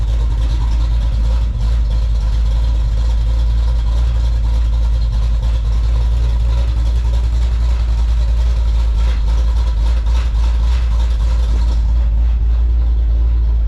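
A 1984 Chevy Silverado with a swapped-in 350 V8 idles through 40-series two-chamber Flowmaster mufflers. The exhaust rumbles loud, deep and steady at close range with no talk over it.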